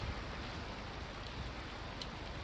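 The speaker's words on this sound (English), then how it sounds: "We've got some rain going on." In the video game Wild Arms 2, steady rain hisses evenly without a break, a dense, constant wash with no voices.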